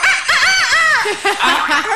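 A person vocally imitating a chicken, producing a wavering, strained crow-like squawk in two loud bursts, close up, in a lively group setting.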